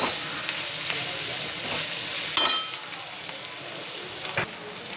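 Onions cooked soft in a pan with ginger-garlic paste stirred in, a loud continuous sizzle with scraping stirring strokes and a sharp clatter of the spoon partway through.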